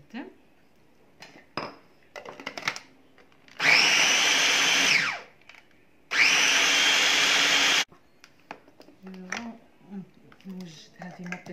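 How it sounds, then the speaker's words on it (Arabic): Blender grinding tomatoes in a kitchen, two loud sustained whirring bursts of a few seconds each, separated by a pause, with clinks of dishes and utensils before and after. "دابا غادي نطحن هاد المطيشة"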